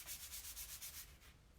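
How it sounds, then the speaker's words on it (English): A 320-grit sanding block rubs back and forth across a vintage wooden wardrobe, giving close, steady rhythmic scratchy strokes, about eight passes that fade slightly toward the end. "So this is just a 320 sanding block."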